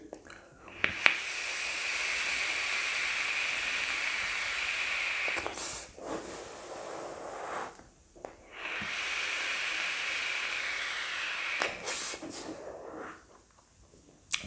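Banana Milkshake e-liquid vaped through a Stratum 303 Matte Edition atomizer with a single-coil build: two long, steady hissing draws of several seconds each, separated by short pauses with faint clicks, close and fairly loud.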